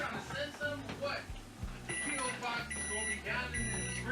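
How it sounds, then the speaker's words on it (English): A kitchen timer going off while smoked sausage stew with green beans cooks, a series of high electronic beeps in repeated bursts, with a person talking over them. "there went the timer for my 10 minutes on these beans"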